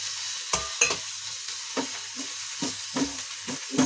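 Green chillies and spices such as fennel, turmeric, coriander and red chilli powder fry in a pan for karela fry. A spatula stirs in repeated close scrapes over a soft, steady sizzle.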